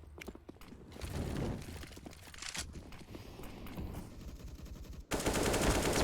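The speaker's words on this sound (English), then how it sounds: "Spray going to be coming on through from Deviant" Rapid automatic gunfire sprays in bursts during a Counter-Strike match on the Nuke map, close and sharp, broken by short pauses and mixed with in-game clatter before a loud final burst.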